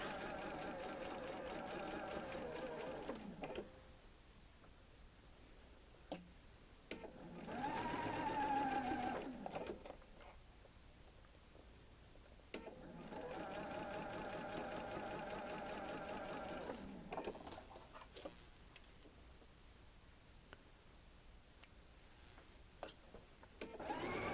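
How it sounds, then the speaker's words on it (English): A sewing machine stitches quilt arches for a double wedding ring quilt in long, steady whirring runs, stopping and starting several times, close and fairly loud with quiet pauses between. "Now I've got arches sewed together."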